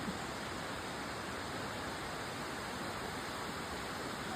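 Khlong Nam Lai waterfall in Khlong Lan, Kamphaeng Phet, pours in a steady, dense broadband rush of falling water, constant and unbroken with no voices.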